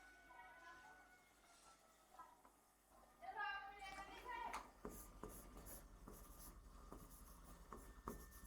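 Writing strokes during a Hindi grammar class on sandhi, soft scratching marks under a teacher's steady speech in a quiet room.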